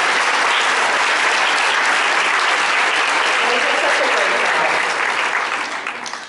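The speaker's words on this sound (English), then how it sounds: "Can we give the students a round of applause?" An audience gives sustained, loud applause for students at a school's centennial celebration, the dense clapping holding steady before tapering off near the end.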